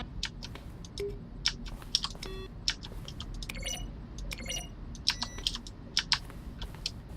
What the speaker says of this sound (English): A selection of the sounds used throughout the game when buttons are pressed. Each sound is a mix of a keyboard stroke and a synthesized tone.